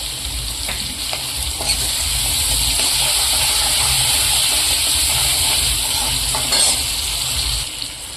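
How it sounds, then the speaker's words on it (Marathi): Tomatoes with salt sauté in oil for a bombil (Bombay duck) curry, giving a steady, loud sizzle with stirring scrapes throughout and no talk. "टोमॅटो चांगलं तेल सुटेपर्यंत टोमॅटो परतून घेतला असते ना"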